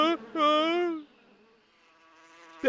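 Honeybees buzz in a Telugu animated cartoon about a bee and a bear: two short, loud buzzing bursts give way to a fainter, sustained drone, and another burst cuts in at the end.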